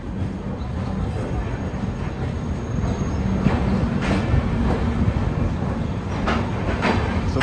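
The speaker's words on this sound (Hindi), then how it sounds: "चलिए शेड्यूल स्टॉपेज के बाद फाइनली अपना departure Patna junction railway station से" A Sairang Rajdhani Express train pulling out of Patna Junction station, with a steady low rumble and faint rhythmic clatter of the wheels building gradually beneath the carriage.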